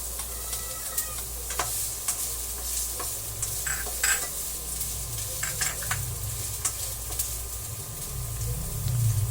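Chopped onion sautés in hot oil in a pan, a loud, close, continuous sizzle broken by repeated scraping and clinking stir strokes, with no voices.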